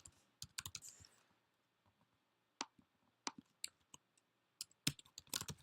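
Typing on a computer keyboard while entering short words of text, heard as scattered bursts of quick key clicks with a pause in the middle, close and fairly quiet with no talking.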